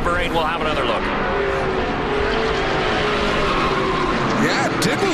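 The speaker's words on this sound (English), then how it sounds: "Ryan Clute, a big slide and a hard hit in the tire wall" A NASCAR Pinty's Series race car slides over a hill crest and slams hard into a tire wall, with engine roar, screeching tire squeals and other cars passing, all under continuous commentary.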